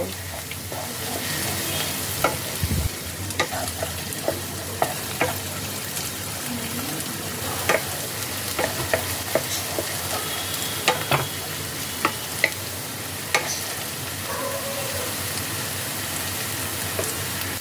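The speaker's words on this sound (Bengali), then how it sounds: "এবার পেঁয়াজ, আদা, রসুন সব কিছুকে একসাথে তেলের মধ্যে ভালোভাবে লালচে করে ফ্রাই করে নেব।" Chopped onion, ginger and garlic fry in oil for paneer bhurji, a constant close crackling sizzle broken by frequent sharp clicks and scrapes of a spatula stirring the pan, with no talking.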